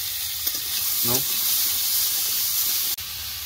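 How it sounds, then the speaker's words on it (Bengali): Elephant foot yam and shrimp frying in a little oil, a close, steady sizzling hiss with a brief stirring scrape early on and a short clatter near the end. "অল্প একটু তেল দিয়ে ওল আর চিংড়ি মাছটা ভালো করে কষিয়ে নেবো"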